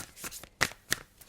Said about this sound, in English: I didn't need to shuffle